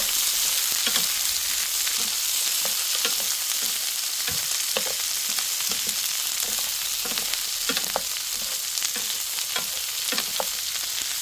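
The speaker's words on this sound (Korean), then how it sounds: "이렇게 해서 불은 약간 줄이시고 볶아주세요" Salted cucumber stir-fries in perilla and sesame oil over lowered heat, a loud continuous sizzle with frequent light scrapes and taps of a utensil against the pan, no talking.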